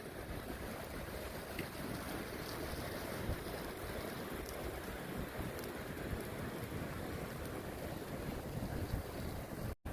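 Wind buffets the microphone in a steady roar beside the Potomac River, with water washing underneath, loud and constant until a sudden cutoff at the end.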